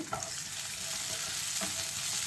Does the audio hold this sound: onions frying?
yes